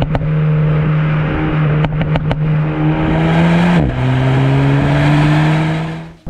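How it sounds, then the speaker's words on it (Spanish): A Renault Megane RS Ultime engine drones loudly and steadily, its pitch dipping as it shifts and then holding, with faint crackles from the exhaust. "el sonido del motor también es algo súper estimulante gracias a un escape con mucho petardeo"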